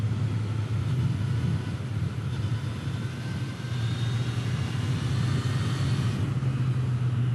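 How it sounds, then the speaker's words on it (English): A three-cylinder motorcycle engine drones steadily on a ride past ranch driveways, a low, even rumble that dips slightly midway and then holds, with no voices. "The bike. Just love that 3-cylinder sound."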